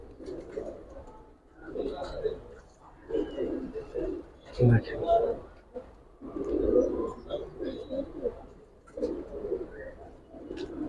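Silver Giribaz pigeons at a seller's loft keep up repeated low, rolling coos in waves, soft and close, with occasional bumps and movement noises.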